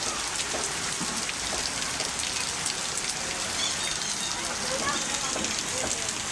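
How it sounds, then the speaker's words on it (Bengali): Heavy monsoon downpour in Dhaka, a dense steady hiss of rain drumming on surfaces and splashing, continuous and close throughout, with faint voices of children playing in the rain underneath. "মুষলধারা বৃষ্টি হচ্ছে ঢাকায় এখন।"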